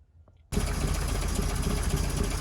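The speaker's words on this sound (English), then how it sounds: "We're going to start the engine now and see if we still get a misfire under acceleration." After a brief quiet moment a car engine with a misfire under acceleration suddenly catches and settles into a loud, steady rattling idle that continues to the end.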